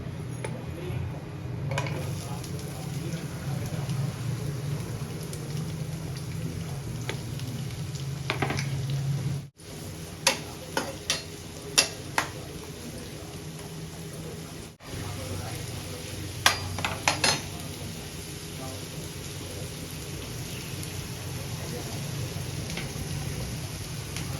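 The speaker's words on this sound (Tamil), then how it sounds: "பேனில் ஆயில் ஊற்றி ஆனியன் நல்லா ரோஸ்ட் பண்ணிக்கலாம்." Onions fry in oil in a pan, giving a steady soft sizzle with a few sharp clicks and clatters of stirring partway through, in a home kitchen.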